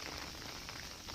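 Heavy rain pours down during a mountain hike in Hong Kong's Sai Kung hills, a steady dense hiss of drops on surfaces filling the whole brief moment, with no one talking.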